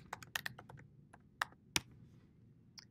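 Fingers type on a computer keyboard in irregular clusters of crisp key clicks, a few louder taps standing out, quiet and close with no voices.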